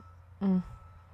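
A single short, low electronic beep at moderate distance, standing out briefly over a quiet room hum.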